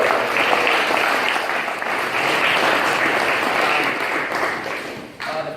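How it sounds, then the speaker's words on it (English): A crowd at a gym's holiday party breaks into sustained applause, a dense, even wash of clapping that holds steady for several seconds before tapering near the end. "give yourselves a round of applause"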